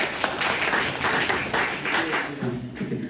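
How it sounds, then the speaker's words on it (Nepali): Audience applause for two singers at a Nepali music performance, a steady wash of many clapping hands at moderate volume, with faint voices mixed underneath. "उहाँहरू दुवैजना कलाकारलाई पनि हामीले तालीले सम्मान गरिदियो एकचोटि प्लिज सबैजनाले है"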